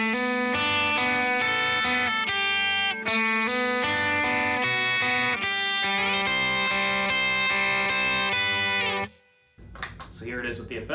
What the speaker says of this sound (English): So here it is slowed down a little bit with no effects on.